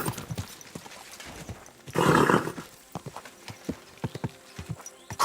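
Rapid hoofbeats of a galloping horse in the video game Kingdom Come: Deliverance II clatter in an uneven rhythm, with a burst of rushing noise partway through, close and fairly loud.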